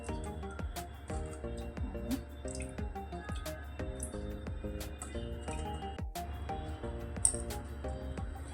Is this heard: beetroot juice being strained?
yes